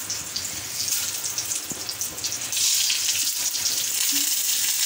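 Chicken kebabs fry in a pan at home, giving a steady close sizzle with a hissing, spattering wash of frying oil that swells louder partway through, heard alone with no talk.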